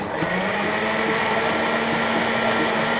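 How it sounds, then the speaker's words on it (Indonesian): An electric blender whirs steadily at full speed, grinding pandan leaves with water into juice for homemade pandan kaloci, a continuous loud buzzing drone with no pauses. "langsung kita blender ya sekarang. Sampai mendapatkan sari dari pandannya ya"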